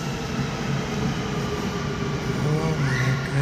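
A train pulls into a new station, with a loud, steady mechanical rumble throughout and a faint rising whine near the end.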